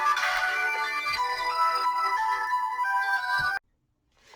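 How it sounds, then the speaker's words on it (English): A mobile phone ringtone plays loudly and close by for a few seconds, a bright repeating melody, then cuts off abruptly, leaving near silence and a faint trailing sound. "Of course, my phone's going to ring."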